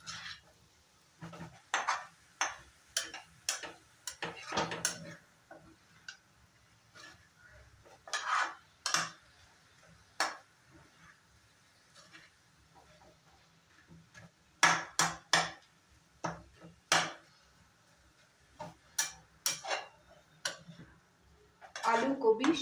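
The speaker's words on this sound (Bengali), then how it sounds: "দিয়ে এখন আমি আর একটু নাড়াচাড়া করে নিয়ে নামিয়ে রাখবো" Green chillies being stirred into cabbage in a pan for an oil-free cabbage dish, with irregular bursts of a utensil scraping and clinking against the pan, separated by quiet gaps, close and fairly distinct.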